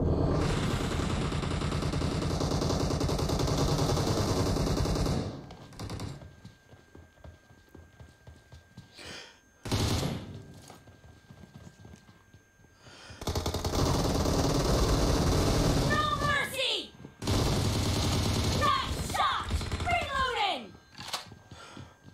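7.62 rifle gunfire in PUBG Mobile comes in loud, sustained bursts of rapid shots separated by short quieter gaps, with some chirping effects and faint voice sounds in the lulls.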